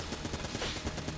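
A Gatling gun in the video game Enter the Gungeon fires a fast, even stream of rapid shots, quiet and continuous across the short burst with no voices over it.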